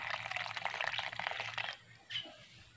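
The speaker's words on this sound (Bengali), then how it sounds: "এবার জল দিয়ে কিন্তু ব্যাটারটাকে মাখিয়ে নেব।" Water is poured in a small, close stream into a bowl of flour batter for pitha, making a soft gurgling trickle that stops partway through, followed by a brief faint splash.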